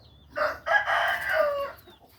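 A fighting rooster crows once, close and loud, with a single drawn-out call lasting over a second against quiet surroundings.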